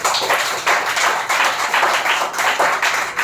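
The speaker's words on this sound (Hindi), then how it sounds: "जोरदार तालियों के साथ।" Audience applause at an International Women's Day ceremony at a national broadcasting head office in India, dense rapid clapping from a crowd in pulsing waves, loud and close, with no talk over it.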